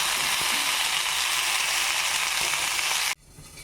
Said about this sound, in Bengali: ফুলকপি আর আলু আমি এখানে ভাজতে দিয়েছি